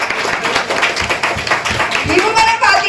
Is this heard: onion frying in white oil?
no